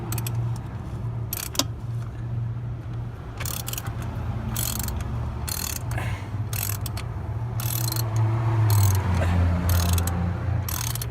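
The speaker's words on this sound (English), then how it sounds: "We have to change the wrench to tighten." Ratchet wrench clicking in repeated bursts while tightening the oil separator on a Volvo 740 engine, the quick pawl ratcheting close and fairly loud over a steady low hum, growing busier toward the end.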